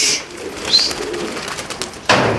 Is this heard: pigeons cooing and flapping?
yes